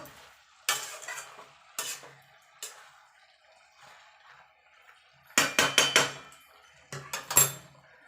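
Cabbage curry with prawns being stirred in a pan: bursts of scraping, clattering spoon strokes against the metal, several quick strokes in a row between short pauses, close and fairly loud, with faint sizzling underneath.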